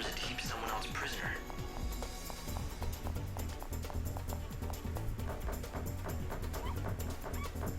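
Dog barks and whimpers from the video game Lightning Returns: Final Fantasy XIII, a few short yips set within dense, steady game music and effects, with a person talking over them.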